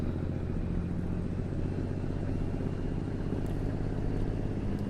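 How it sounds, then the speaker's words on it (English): Kenworth truck engine from the American Truck Simulator game, driving after a hill climb: a steady, loud low drone and rumble held throughout with no gaps, heard alone without any talk. "Love the way this Kenworth sounds."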